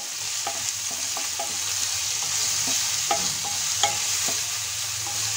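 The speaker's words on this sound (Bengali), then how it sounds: "মশলাটা ভালোভাবে ভেজে নেব।" Masala for an egg korma, made without chili powder or turmeric, fries in a pan while being stirred, giving a steady close sizzle broken by repeated spoon scrapes and clinks against the pan.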